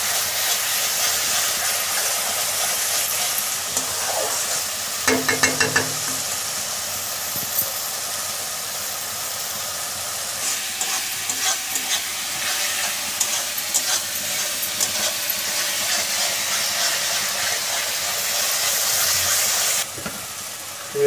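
Masala frying and stirring in a pan for cabbage fish head curry, a steady close sizzle with scraping stir strokes and a few clinks, sustained throughout with no talk.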